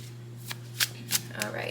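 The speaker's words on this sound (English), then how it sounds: "Let's start shuffling." A few brief card shuffling riffles sound close by over a steady low hum, spaced out across a short moment.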